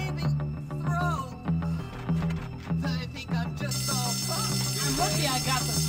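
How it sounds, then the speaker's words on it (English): Fire alarm inside Bullworth Academy in the video game Bully: Scholarship Edition on Wii, a continuous electronic ringing that persists under game music and effects throughout, fairly loud and steady. "Another alarm?"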